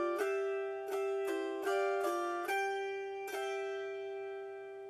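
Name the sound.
autoharp melody phrase played with restricted pinch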